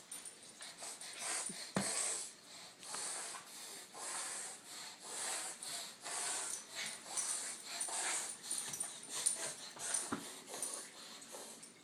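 A puppy named Chai Chai whimpers and snuffles close by, giving soft, uneven whines and rubbing noises throughout with brief sharper bursts.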